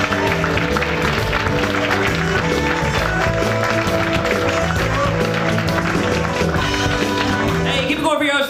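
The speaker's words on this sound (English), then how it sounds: "Please clap it up for Travis Stevenson." A comedy club audience applauds and cheers a stand-up comedian, a dense, steady wash of clapping under loud walk-on music that runs unbroken before fading at the very end.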